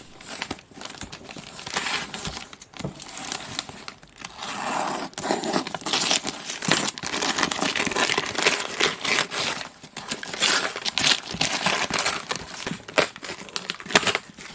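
A mailed package box covered in customs stickers being opened by hand: close, loud crinkling, scraping and tearing of cardboard and packing material in irregular bursts.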